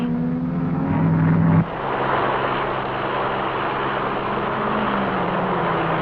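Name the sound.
1957 racing car passing through the chicane at Sebring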